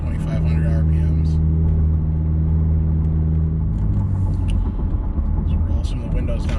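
A Subaru XV Crosstrek with its muffler deleted cruises in fourth gear at about 50 mph and 2,500 RPM, giving a loud, steady low exhaust drone that eases slightly late on, with someone talking over it.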